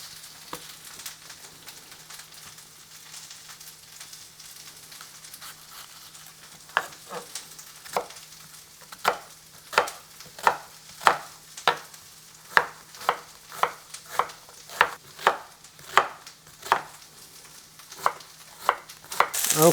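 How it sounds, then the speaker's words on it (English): Steady low sizzle of food sautéing in a pan runs throughout, joined partway by a rapid series of sharp knife chops as an onion is cut on a board, the chopping louder and closer than the frying. "While this doing sauteing away, let's go and cut our onion."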